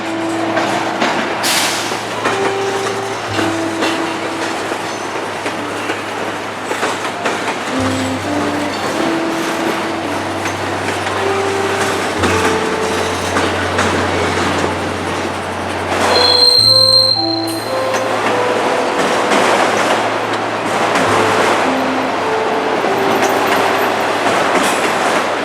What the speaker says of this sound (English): here we are with this unique train as it heads up towards Charleston